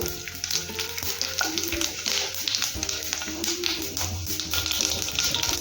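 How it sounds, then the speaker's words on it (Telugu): Seeds crackle and sizzle steadily in hot oil, with dense popping and a few sharp taps against the pan throughout. "ఆయిల్ వేడెక్కిన తర్వాత పోపు గింజలు యాడ్ చేసేసుకొని ఫ్రై చేసుకుందాము"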